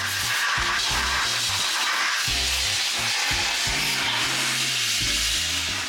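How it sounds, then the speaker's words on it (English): An air blower drying a wet motorcycle after washing, a loud continuous rushing whoosh of air that holds steady throughout, with uneven low rumbles from the air striking the bike. "Now Alan's gonna get the just a sort of air blower on it to really dry the bike out properly."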